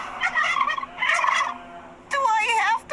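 A cartoon turkey gobbles in three loud, warbling bursts separated by short pauses, close and clear with no talk.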